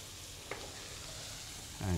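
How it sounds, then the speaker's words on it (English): Onion, garlic and ginger sizzle in hot oil on a very high flame, a soft steady frying hiss with a brief clink, then a louder burst of sizzling as more goes into the pan. "There's nothing quite like the fragrance of onion in oil, sort of frying in oil."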